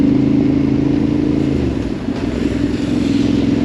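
A Yamaha Tenere 700 Rally motorcycle ridden slowly over wet, uneven ground, its engine held at a steady low hum with a brief shift in pitch midway and faint clattering of the bike.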